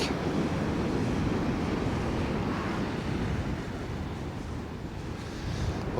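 Sea waves surge and break continuously on the beach at Sutton on Sea, a steady close rushing wash with wind buffeting the microphone and no voices.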